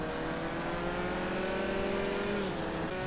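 A race car engine in GTA Online drones loudly at a steady high pitch under hard acceleration near top speed, with a slight dip in pitch near the end.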